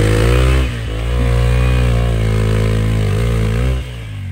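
A Hero XPulse 200 motorcycle on an enduro trail revs loud and close, its engine note rising and falling in strained surges over about four seconds without speech.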